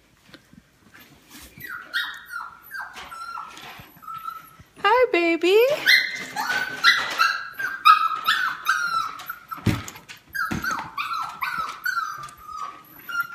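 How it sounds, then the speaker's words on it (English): A dog barks and whimpers behind a door, a series of sharp, excited yelps that grow louder and closer once the door opens, with a person speaking briefly over them. "I just heard him barking because I know he hears somebody at the door"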